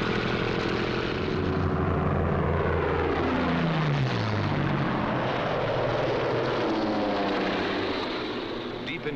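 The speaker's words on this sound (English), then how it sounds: "A group of escorting Mustangs watches every corner of the sky." WWII P-51 Mustang fighter engines drone loudly in flight, a thick sustained propeller roar with a pitch that sweeps down as aircraft pass, continuous and close for the whole stretch.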